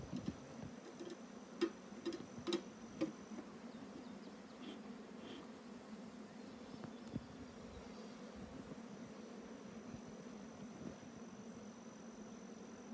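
Bees swarm inside an opened hive colony, a faint steady hum of buzzing with a few small ticks and clicks near the start, with no voices.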